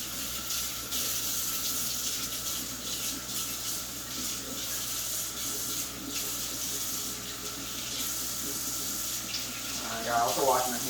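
Tap water runs steadily into a kitchen sink while a knife is rinsed, a continuous close splashing hiss lasting throughout, with a brief clatter near the end.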